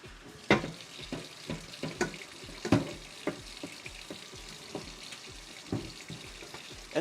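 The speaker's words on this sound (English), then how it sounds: "As I'm over here washing dishes." Running tap water splashing steadily in a kitchen sink while dishes are washed, with irregular clinks and knocks of crockery scattered through the flow, moderately quiet and close.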